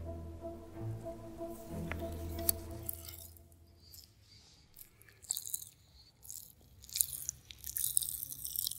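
Peta Zeta popping candy crackles inside a mouth as faint, close fizzing and snapping bursts. It grows denser and more irregular in the second half of a quiet stretch.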